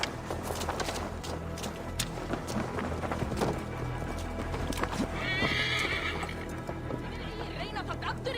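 Horse neighing and whinnying with clip-clop hoofbeats in the Assassin's Creed Valhalla video game, steady throughout under background game sound and a voice.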